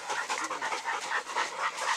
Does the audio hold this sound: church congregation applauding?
no